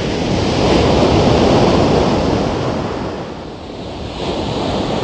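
Sea waves rush and wash onto a shore where a tsunami once struck, in a loud, continuous broadband roar that swells and eases slightly, with wind buffeting the microphone and no talk.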